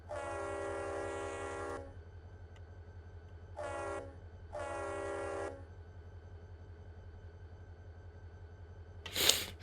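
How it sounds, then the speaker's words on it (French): GP40-2 diesel locomotive in the Run8 train simulator sounding its horn in three blasts, one long followed by two shorter ones, loud over a steady low engine idle, ending with a brief sharp clank. "si on klaxonne, à l'avant, ça va faire droite-gauche"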